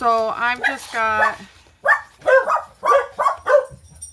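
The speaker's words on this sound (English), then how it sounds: "my apologies about the dogs" Dogs bark twice in quick succession, close and loud, with tonal yelping barks, then a person starts talking.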